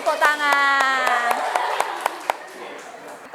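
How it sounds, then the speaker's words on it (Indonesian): Students in a classroom clap in a short burst after a pupil receives a prize, sharp separate claps that thin out to a few stray ones, with a voice talking over the start. "Tepuk tangan."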